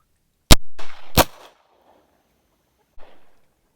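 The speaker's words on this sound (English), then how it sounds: "And final round, here it is." Two sharp, loud gunshots from an 1849 Colt .31 caliber revolver fire about 0.7 seconds apart, each trailing off into a short echo, followed by a faint click or thud a moment later.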